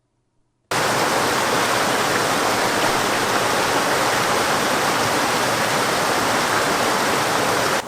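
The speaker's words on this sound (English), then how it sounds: "Okay, so I've come down to the river." A river flowing low after dry weather, heard as a steady, loud, broadband rush of water that starts abruptly and continues evenly without pause.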